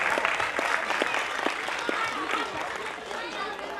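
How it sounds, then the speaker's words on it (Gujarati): Audience applause at a dance academy's annual function show: dense, steady clapping from a large crowd fills the hall throughout, loud and close, with voices faintly mixed underneath. "એકવાર દીપક સરની ફેમિલી માટે બી જોરદાર તાળીઓ થઈ જાય પ્લીઝ એવરીવન"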